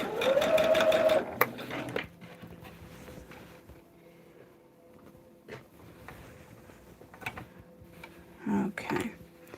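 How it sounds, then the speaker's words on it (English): A home sewing machine stitching a quarter-inch seam on a quilted star table runner whirs loudly in a short burst, then falls quiet under faint handling noises before a second brief run near the end. "Quarter inch we are sewing from the edge."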